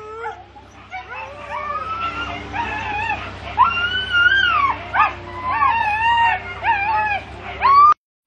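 An eight-dog sled team howls and whimpers just before a race start, long wavering howls and high whines layered from several dogs, loud and close over a low steady hum, ending abruptly.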